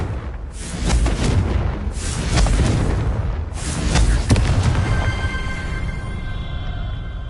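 Rolling, roaring blasts from the Confringo fire spell in Hogwarts Legacy, a series of three heavy booming explosions in quick succession, loud and close, ending in a fading crackling tail.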